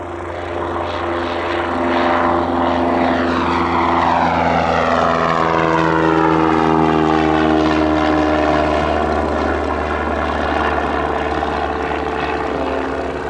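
A Cessna Skyhawk propeller plane takes off, its engine drone loud and steady throughout, with strong harmonics sweeping in pitch as it passes close by on the runway.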